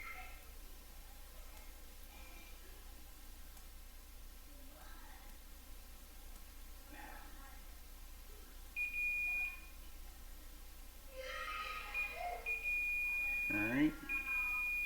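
A multimeter continuity tester sounds short, thin beeps as its probes touch the pins of a Vtech Kidizoom smartwatch being repaired. The tones are sparse and faint at first, then longer and steadier toward the end over a low hiss.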